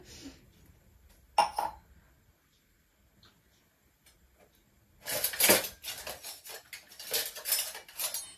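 A utensil clinks and scrapes against a vessel while coconut milk is stirred for Pesaha paal, with one sharp early clink, a quiet pause, then a run of rapid, close, fairly loud metallic stirring clatter.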